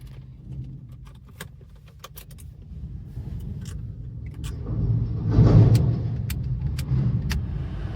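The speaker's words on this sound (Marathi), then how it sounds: "हा ब्लोअर चालू केला आपण." In a Volkswagen Ameo, the AC blower fan whooshes in the cabin, rising to a steady airflow hum over a low engine rumble, with scattered clicks and small rattles nearby.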